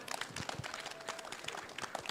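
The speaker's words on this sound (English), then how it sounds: "a round of applause once again" Audience applause at the MIHAS 2025 Knowledge Hub power talk: faint, scattered clapping from a distant crowd, continuous and fairly even throughout.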